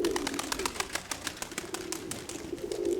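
Pigeons coo in soft repeated phrases close by, a low, steady murmur with faint clicks and rustles in a pigeon loft, with no voices.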